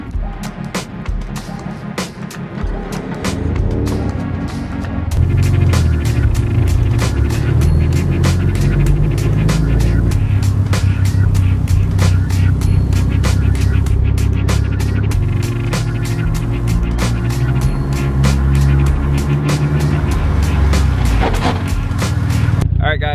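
A car rolls along the road on Hankook Ventus V12 Evo 2 tires, making a steady, loud rumble of road and tire noise with low engine drone that holds throughout.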